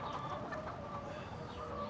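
A flock of hens clucking in a coop, overlapping chatter and short cackles forming a dense, continuous cluster of bird calls close by, with no talking.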